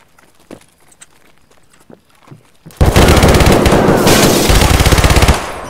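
Shotgun fire in the video game Escape from Tarkov: after quiet shuffling, a loud rapid burst of repeated blasts erupts close up and continues for several seconds before cutting off.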